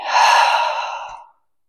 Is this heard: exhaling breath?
yes